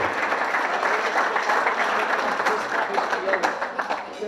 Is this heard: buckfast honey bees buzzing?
no